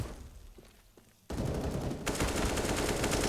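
AK-47 rifle fire in the Counter-Strike esports match at ESL Pro League Season 13: after a quiet stretch, loud dense bursts of automatic gunfire erupt and keep going, with no talk over it.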